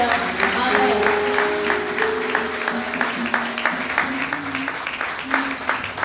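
A Haitian evangelical church congregation applauds in a steady, loud wash of many hands, with voices and a sustained tone beneath the clapping throughout.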